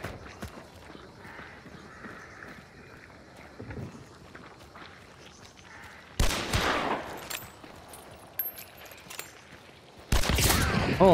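Hip-fire gunfire in a multiplayer shooter, two loud bursts of rapid shots cutting in after quieter game ambience with faint footsteps and scattered distant noises.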